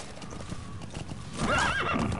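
Horse hooves clip-clopping in Metal Gear Solid 5: The Phantom Pain, growing louder midway with a whinny and neigh near the end, accompanied by background game music.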